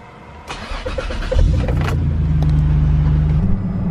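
A Toyota Tacoma pickup engine cranks briefly, then catches and settles into a loud, steady idle, heard up close from inside the truck.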